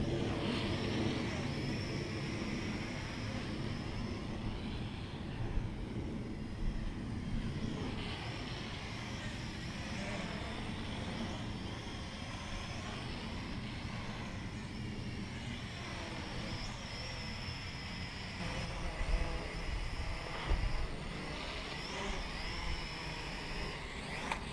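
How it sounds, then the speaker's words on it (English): A DM009 RC quadcopter in flight gives off a faint, continuous whirring buzz that rises and falls in pitch as it maneuvers, with occasional louder swells. "Really sweet flying quadcopter, guys."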